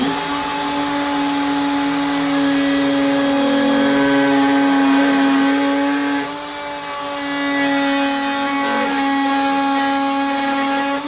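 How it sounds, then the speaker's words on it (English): A router bit spinning up and cutting into the edge of a Corian undermount sink base gives a loud, steady whine with strong harmonic tones, dipping briefly midway as the bit meets the material, with no talking. "start the bit away from my material, and bring it in and run it just about an inch to be able to see how it cuts"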